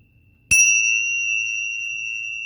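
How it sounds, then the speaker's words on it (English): Pair of tingsha bells struck together once, giving a bright, clear metallic ding that hangs on as a long sustained ring, fading only slowly, close and alone. "the bells ring for quite some time after you hit them together"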